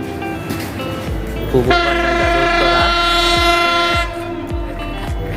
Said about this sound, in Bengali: এবং ঢাকার থেকে আরেকটি ট্রেন আসছে